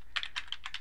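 Quick keystrokes on a computer keyboard, a short burst of about eight close, crisp clicks in an uneven typing rhythm.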